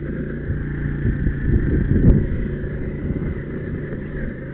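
A small 50cc ATV engine idles and runs steadily close by, with a low, rich-running drone that swells slightly and eases off, no talk over it.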